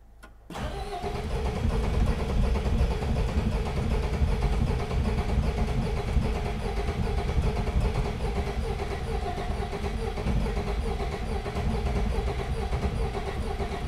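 A rusty, long-idle Peugeot 404 pickup engine cranks and catches, then runs steadily at a loud, close, rough idle for the rest of the time with no talk over it.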